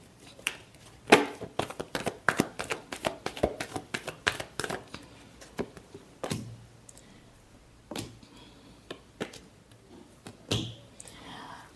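Tarot cards riffle and slap together in a final shuffle, a quick run of crisp papery snaps and flutters close by, thinning into scattered taps and rustles toward the end.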